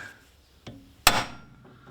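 Hammer tapping a nut back onto a Fiat Panda 4x4 during suspension work: a light tap followed by a sharper, louder metallic strike that rings briefly in a quiet space.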